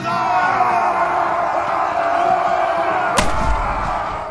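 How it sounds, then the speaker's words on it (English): Under a loud, continuous roar of crowd noise, a single sharp cannon boom cracks out near the end with a deep rumble after it, at a Valley Forge encampment. "A cannon is fired, a large plume of smoke."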